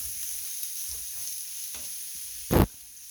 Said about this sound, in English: the idea is just to get a good sear on these